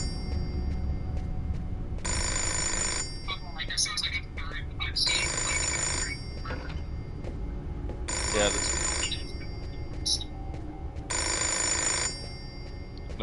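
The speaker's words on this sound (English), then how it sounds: "I just need to answer the telephone." Telephone ringing in the video game Indigo Prophecy, a repeated electronic bell sounding in regular bursts of about a second with pauses between, while a person talks over it.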